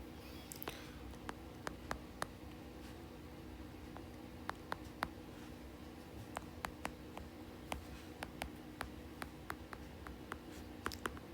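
A pen scratches and taps faintly across paper during a physics lesson, in short scattered strokes over a quiet room hum.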